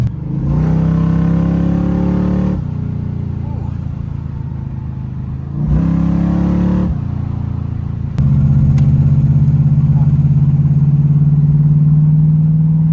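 A G-body car with a deep rumbling engine accelerates hard in first gear, rising in bursts before each pause and ending in a loud, steady drone that sounds close inside the car, with no talk.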